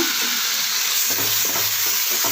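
Ground tomato paste hits hot oil in a frying pan and sizzles loudly and continuously, with soft stirring scrapes breaking through the steady hiss, close up and with no talking.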